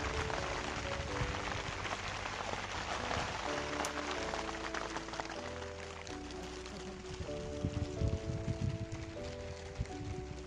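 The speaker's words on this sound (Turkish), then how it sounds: "Şu an yağmur yağmaya başladı." Steady rain falling, a broad continuous hiss with scattered drops, while a sustained tonal hum or music runs underneath throughout.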